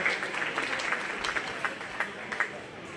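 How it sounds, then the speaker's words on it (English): Fairgoers at a county fair pig show applaud, a fairly soft, sustained crowd clap with a few sharper individual claps standing out, gradually fading toward the end. "Let's give Kate a nice round of applause as well as we continue to work with these young people."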